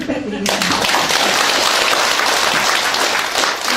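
A crowd of residents at a district office meeting applauds with loud, dense, sustained clapping that starts suddenly just after a brief voice and continues evenly to the end.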